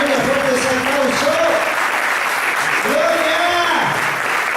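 Congregation applauding in a church during a sermon, a loud steady wash of clapping with raised voices and shouts carrying over it throughout.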